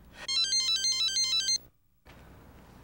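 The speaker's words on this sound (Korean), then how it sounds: "너 전화 안 받고 뭐해?" A telephone ringtone plays a bright, repeating electronic melody for about a second and a half, then cuts off abruptly and the phone goes unanswered, leaving a quiet room with faint background noise.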